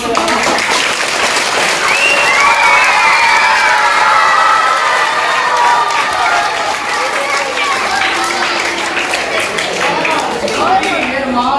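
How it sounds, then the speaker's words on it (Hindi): A children's audience at a live magic show claps and cheers together, a steady, loud wash of applause with excited shouting voices on top, continuous throughout. "जोर से आपकी तालियां होंगी"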